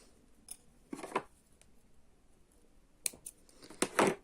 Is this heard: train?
no